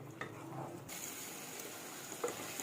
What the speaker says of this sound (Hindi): अब मैं इन मसालों के साथ गोश्त को भून लूँगी